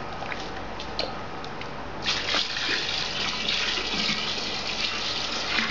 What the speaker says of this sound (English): So now we'll add some more water.